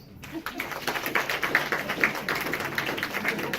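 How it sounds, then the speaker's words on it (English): At a stand-up comedy show, a crowd answers with a round of clapping, irregular and moderately loud, with individual claps standing out over a busy mix of hands and faint voices. "Clap if you think yes."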